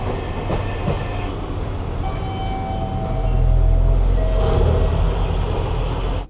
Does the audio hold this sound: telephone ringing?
no